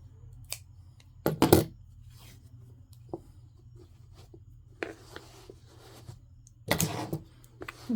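Scissors snip through crochet yarn, a few close, crisp cuts in short clusters separated by quiet handling noises and soft rustles, with no talking.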